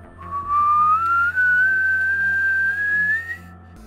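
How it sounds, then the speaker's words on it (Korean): A single clear whistle glides slowly upward in pitch, held steadily for a few seconds over a faint low hum. "계속 휘파람을 부니까"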